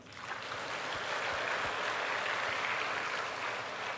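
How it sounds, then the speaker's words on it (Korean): Church congregation applauding during a Sunday sermon, a dense, even wash of many hands clapping, heard faintly and at a distance, holding steady throughout. "우리는 그 하나님 아버지께, 정말 하나님 아버지께 우리 감사하다고 박수 한번."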